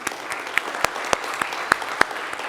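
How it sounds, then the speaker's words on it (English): Audience applause for a presenter at a tech conference talk: scattered, moderately loud claps from a modest crowd over a couple of seconds. "Round of applause for Jason."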